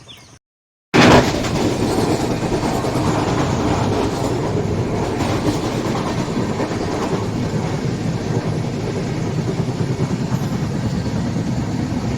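A train rolling along rails, loud and steady with a continuous rumble and faint clickety-clack, starting abruptly after a short silence and running without a break.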